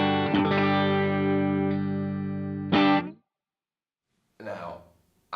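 Distorted electric guitar tones with effects, played back in stereo as sustained chords that stop abruptly, followed by a short burst of strummed notes after a pause.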